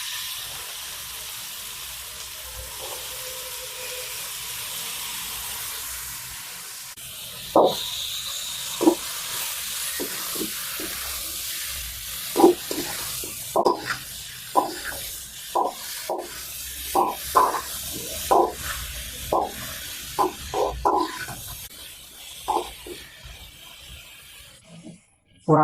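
Chicken sizzles in a pan with onion, crushed ginger and garlic, a steady hiss broken by repeated scraping and clacking of a stirring spoon, close and fairly loud, with no talk.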